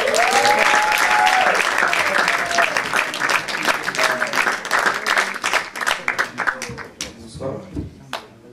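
An audience at a Paris slam poetry show applauds, with dense clapping that thins into scattered claps and fades by the end; a voice talks over it at the start.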